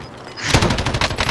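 Rapid automatic gunfire in the video game Call of Duty, a loud close burst of shots lasting about a second, clipped and dense with no speech over it.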